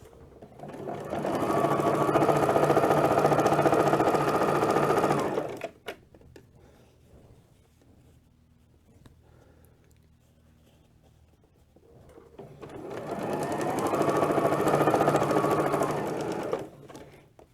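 A sewing machine stitches binding onto a quilt in two loud, steady runs of rapid mechanical chatter, separated by a quiet pause with faint handling noise, and no voices.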